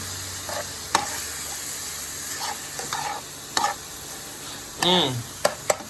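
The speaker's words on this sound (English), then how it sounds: "you can see our pork is browning up pretty nicely" Pork browning in a pan with quiet background sizzle, broken by a few short stirring scrapes and clacks of a utensil, close by with no speech.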